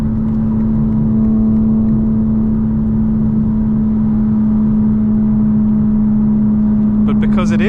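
A 2025 BMW M4 Competition xDrive cruises on a rainy drive, its cabin filled with a steady, loud engine drone and constant hum, with a brief higher-pitched whir near the end.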